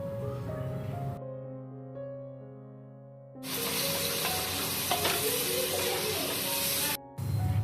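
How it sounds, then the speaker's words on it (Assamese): Carrots and French beans fry in a pan for chicken pulao, a loud sizzle that bursts in after a quieter start and holds steady before cutting off near the end. "এইখিনি দি লৈ আকৌ অকণমান সময় কাৰণে ভাজি থাকিম"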